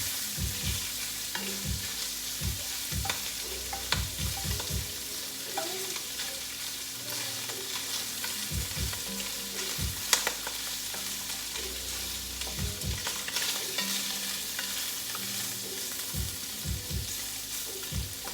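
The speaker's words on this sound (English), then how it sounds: "I'm going to give these sausages one more stir" Sausages sizzle steadily in a frying pan while a utensil stirs them, with repeated scraping and clattering strokes over the constant fry, loud and close with no talk.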